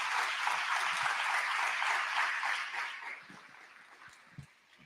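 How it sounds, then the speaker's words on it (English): Audience applause at an innovation expo live event, dense clapping that holds steady and then fades out over the last seconds, leaving faint scattered noises. "I would think this is a round of applause"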